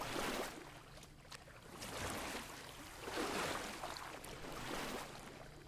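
Broad, rushing water splashes in the VR game Pools rise and fall in surges over several seconds, fairly loud and continuous, like churning water around something moving through it.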